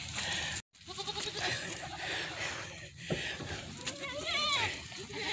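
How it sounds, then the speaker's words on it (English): A herd of goats bleats near a campsite on a former movie set, with wavering nasal cries rising toward the end amid shuffling, and a person talking at times. "I had been trampled by a herd of goats."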